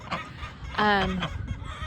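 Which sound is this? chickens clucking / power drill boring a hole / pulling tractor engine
chickens clucking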